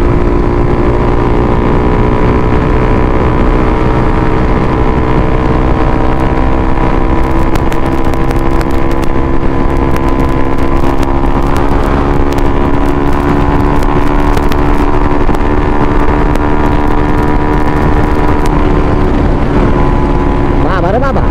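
A motorcycle races at high speed along a rain-wet Chittagong highway, its engine a loud, constant, close-up drone mixed with rushing wind for the whole stretch.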